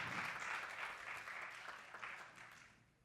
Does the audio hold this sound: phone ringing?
no